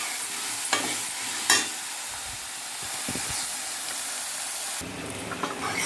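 Onions and tomatoes sauté in a pan for a tomato kurma, four or five tomatoes having just gone in: a steady close sizzle, punctuated by a few sharp spoon scrapes and clatters.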